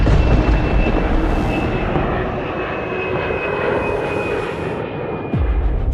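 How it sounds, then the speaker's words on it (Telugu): Airplane engines run in a loud, continuous roaring drone with a steady high whine on top, unbroken throughout and without speech. "Sir engines on."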